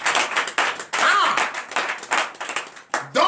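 Congregation at a morning prayer service in Benin applauding, with bursts of rhythmic hand clapping in repeated waves, close and fairly loud, some voices mixed in.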